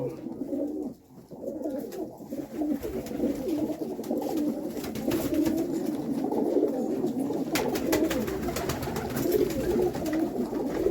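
A flock of pigeons held for sale coos continuously, a dense, low burbling chorus that grows fuller after a brief lull near the start.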